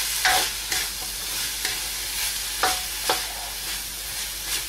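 Carrots and green beans for lumpia stir-fried in a pan, a steady sizzle broken by several sharp scraping strokes of a spatula at irregular intervals, close up with no talking.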